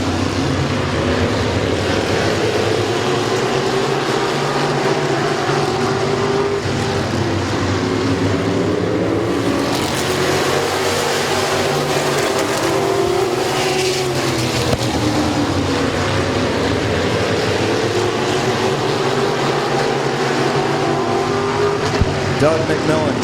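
Race cars roar around the oval at Midvale Speedway, a steady loud engine drone with rising and falling pitch as the field battles for second place, a commentator talking over it throughout.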